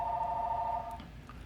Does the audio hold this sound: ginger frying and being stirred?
no